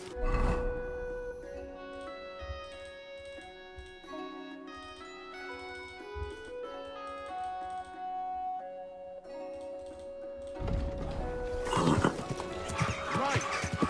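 Horse in the medieval game Kingdom Come: Deliverance II, a whinny and clopping hooves mixed under steady orchestral music, with a louder burst of activity near the end.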